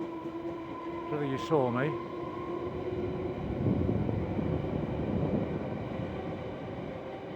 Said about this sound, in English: I hear another train coming. Let's watch it go by.